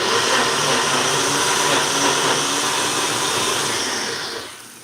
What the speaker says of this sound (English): I've got my little mini blender over here.